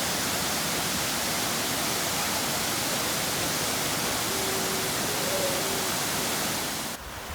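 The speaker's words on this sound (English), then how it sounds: "You can see the waterfall coming down." Big Wolf Fall sends up a steady, dense hiss of falling water, loud and unbroken throughout, with faint tones briefly audible beneath the roar.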